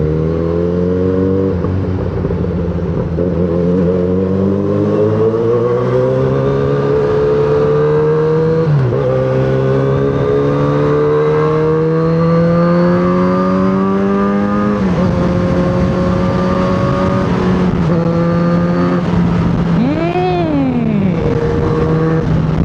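A Kawasaki Z900RS motorcycle fitted with a 61mm mid-pipe exhaust revs loudly and up close, its engine note climbing and dropping in repeated sweeps over about twenty seconds, with one sharp blip near the end.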